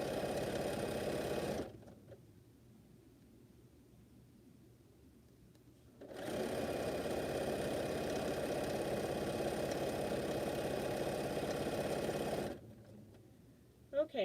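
A sewing machine runs in two long bursts while stitching quilt strips, a steady mechanical whir that stops for a quiet pause in between and again near the end.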